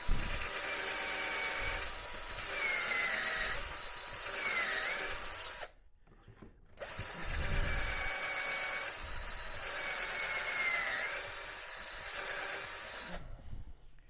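A drill bores dowel holes through a Dowelmax Jr jig in two long runs, each a steady whining, hissing drive of about five to six seconds, separated by a short quiet pause.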